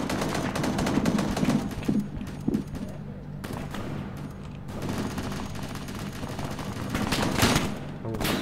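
Rapid gunfire rattles through a military video game firefight involving an MRAP, dense bursts of shots rolling on and off with brief lulls, loud and close, with players talking over the shooting.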